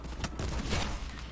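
Sniper rifle quick-scope fire in the shooter game Black Ops 4, heard as a couple of loud, sharp gunfire bursts close together over a dense, continuous wash of battle noise, with no voices.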